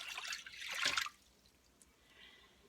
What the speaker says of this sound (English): into the crock pot we're going to put 2 cups of water